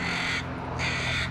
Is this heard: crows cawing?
yes